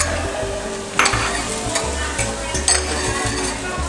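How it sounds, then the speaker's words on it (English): Onions frying in a pot with white wine vinegar, ginger, flour, fish stock and tamarind, a steady close sizzle with stirring scrapes and occasional utensil knocks, no talk. "Onions into the pot."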